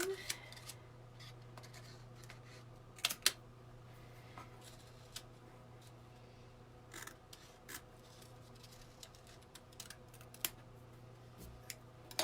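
Paper trimming during book restoration, sharp scissor-like snips and cuts at intervals, close and fairly quiet, with scattered handling noises and a few louder clicks.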